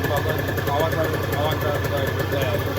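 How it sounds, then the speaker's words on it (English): An Aprilia RS50 motorcycle engine running while still cold, with a small blip of throttle. It gives a loud, close, steady buzzing drone, and a voice can be heard over it. "Yeah, I can just do a little rev. Still cold."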